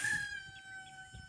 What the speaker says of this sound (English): yes, Rooster, we hear you.